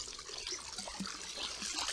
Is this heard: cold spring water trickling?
yes